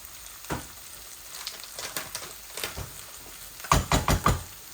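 Rice frying in a little oil for fried rice, a soft sizzle broken by dull knocks and scrapes of stirring, ending in a quick cluster of louder spatula knocks.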